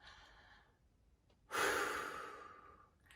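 A close, quiet intake of breath followed by a louder, airy exhale that swells abruptly and slowly fades, part of a singing warm-up breathing exercise, with no talking.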